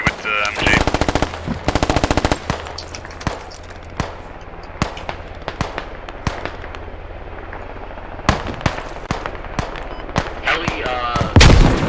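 Machine gun fire in the video game Squad comes as loud, close rapid bursts and single cracks spread through the clip, with a dense rattling burst near the start. Faint radio voices and game ambience sit underneath.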